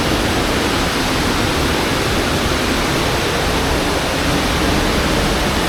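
Chitrakoot waterfall roars with a continuous, loud, dense rush of falling water that stays even throughout with no voices.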